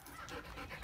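A dog pants excitedly and steadily at close range, a quick breathy rhythm running through the whole short moment with no talking over it.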